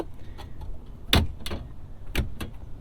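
The plug-in charging port door and its small cover on a 2021 Mitsubishi Outlander PHEV are opened by hand, giving a few sharp plastic clicks and snaps spaced over a couple of seconds, close and fairly quiet.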